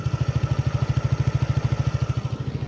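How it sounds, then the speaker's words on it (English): A TVS Ntorq 150 scooter engine idles close by with a steady, fast putter, its low exhaust pulses even and unbroken throughout. "So this is what it sounds like on idle"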